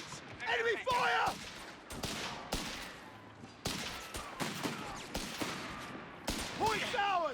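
Gunfire in the video game Company of Heroes 3: rapid bursts of rifle and machine-gun shots crack in close, dense volleys with distant reports, while soldiers' voices shout over the battle.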